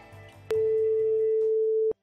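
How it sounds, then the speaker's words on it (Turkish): A telephone line tone while dialing a phone, a single loud steady electronic tone lasting about a second and a half after a short click, over faint background noise. "Ağaçlı alana bakan evde oturup telefonu çeviriyorum."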